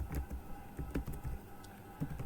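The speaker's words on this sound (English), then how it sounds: "Let me quickly type it down." Quick, light typing on a computer keyboard, a short run of soft close key clicks in an uneven rhythm, fairly quiet and with no talk.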